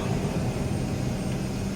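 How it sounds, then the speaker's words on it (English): A steady, loud low rumble from an airliner's speed brakes during descent toward the airport, a continuous broadband roar heard from inside the cabin with no breaks. "You can hear the rumble going on outside the airplane."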